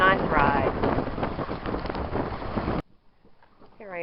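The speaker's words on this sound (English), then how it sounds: "the winds are blowing from the northwest as they said they would, at about 15 or so" A northwest wind of about 15 knots buffets the microphone aboard a sailboat running downwind, a loud, gusty roar for nearly three seconds before it drops away and a voice starts to speak.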